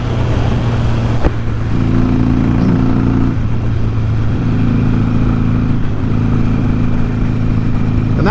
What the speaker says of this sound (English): That's about as fast as this bike will go